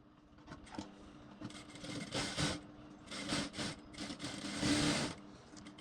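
A sewing machine stitching a half-inch seam on a blouse runs in several short bursts of mechanical whirring and clatter, close but quiet, with brief pauses between runs.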